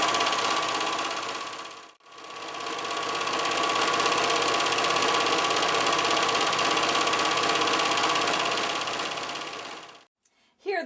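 A sewing machine runs fast and steadily, stitching a patch onto jeans with the pedal floored, a continuous mechanical whir with a brief pause near the start and a stop at the end.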